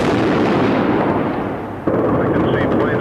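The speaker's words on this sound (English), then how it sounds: "I can hear lots of explosions." Explosions from a 1986 air raid on Tripoli make a dense, loud, rumbling barrage that sags briefly and then jumps back with a sharp new blast.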